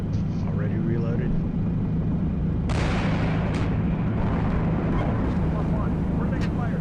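Incoming gunfire and distant artillery rumble in a military video game scenario, a dense continuous roar with sharp cracks, under radio chatter from players.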